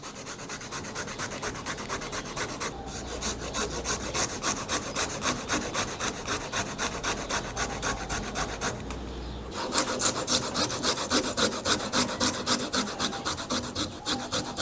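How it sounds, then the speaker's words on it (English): Fresh ginger grated into fine pulp, a steady rhythmic rasping scrape of quick repeated strokes, close and fairly loud, with a brief pause near the end before the grating resumes. "Next, we start grating the ginger."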